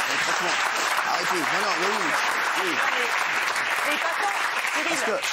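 A studio audience on a French talk show claps loudly and continuously, with a few voices calling out over the applause.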